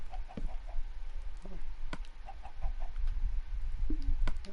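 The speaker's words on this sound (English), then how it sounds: "And please, please don't mind the chickens." Minecraft chickens on a medieval building stream give scattered short clucks, several birds at moderate distance, over a low steady game background.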